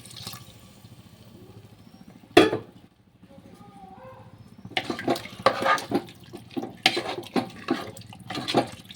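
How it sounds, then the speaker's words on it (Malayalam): Chickpea cooking water is poured into a pan of chickpea and potato curry, giving a soft trickling splash that comes in bursts after a short sharp clatter, heard close up and fairly quiet. "അതിലേക്ക് ഇതാ കടല വേവിച്ച വെള്ളമാണ് ഒഴിച്ചു കൊടുക്കുന്നത്."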